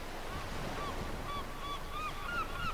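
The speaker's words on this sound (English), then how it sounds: "Seagulls." Seagulls cry in short, repeated calls, fairly distant, over a constant wash of waves and wind by the sea.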